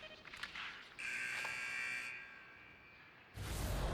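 In an ice hockey video game, the period-ending buzzer blares as a single loud, steady tone for about a second, over quiet game ambience that swells again afterward.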